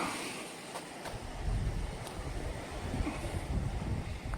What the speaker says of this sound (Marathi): हा खोल समुद्र